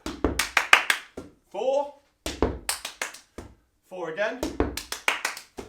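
Hands slapping a volleyball and clapping in quick bursts during a warm-up drill, the sharp claps coming in short rapid runs between a coach's spoken counts.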